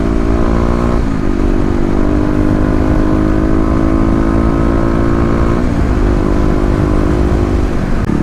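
A 2018 Kawasaki KLX250 motorcycle with Stage 1 mods being ridden, its engine droning loud and steady throughout, with a couple of gear shifts or throttle changes and no speech.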